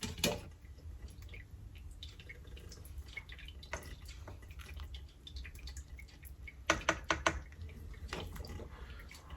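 Whey from stacked, weighted Manouri cheese made from raw milk drips in scattered close drops, some landing in quick clusters over a faint background hum.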